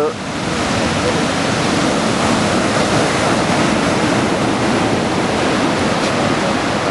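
Ocean surf breaks at a beach surf spot in Anglet, a loud, continuous roaring wash of waves that swells in at the start and stays dense and steady, with wind buffeting the microphone.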